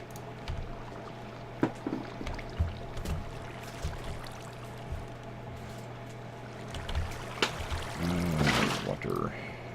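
Water flowing in Minecraft: a faint, steady running hiss throughout, swelling into a louder splashing rush near the end.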